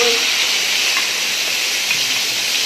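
A steady, even hiss of chickpea curry gravy simmering in a pan, continuous and moderately loud with no talking.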